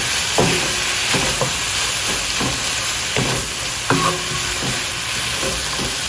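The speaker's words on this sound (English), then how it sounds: "So, let's stir this around." String beans fry in rendered fat over a high flame and are stirred in the pan. A loud, constant close sizzle and hiss carries the whole way, with periodic spoon scrapes and clunks against the pan and no speech.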